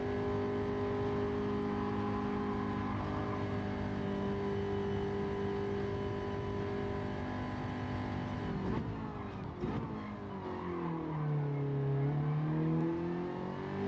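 Race car engine in Gran Turismo 7 holds steady high revs through a time trial, then drops and climbs again through gear changes and braking, loud and continuous with no talk.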